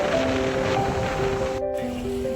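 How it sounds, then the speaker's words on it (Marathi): Sea waves break on the coast below Ratnadurga Fort in Ratnagiri, giving a continuous, steady surf wash for a couple of seconds under faint tonal hum. "कोसळलाय पूर्ण समुद्र."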